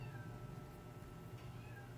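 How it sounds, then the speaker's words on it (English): Kittens meowing faintly at a distance, a few soft cries over low background hum, with no speech. "my kittens is meowing"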